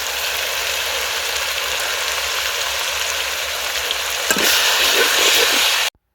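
Green chilies, mint and coriander stirred and frying in a pan for country chicken biryani, a steady loud sizzle with brief scraping stir sounds near the end before it cuts off.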